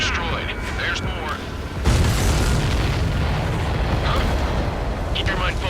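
A destroyed enemy transport explodes in the Ace Combat 7 flight game, a loud rumbling blast that swells suddenly and rolls on as a sustained roar over jet engine noise.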